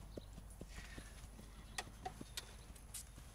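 Horse hooves clip-clop at a steady walking pace, close by and fairly quiet, with no talking.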